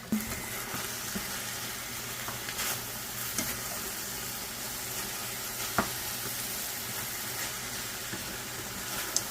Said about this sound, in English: And make sure to give that a stir.